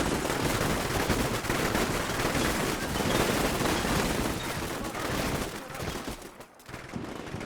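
Dense, continuous gunfire from a close-range firefight in the video game Combat Mission Shock Force 2, loud overlapping bursts and rattling shots filling the whole stretch.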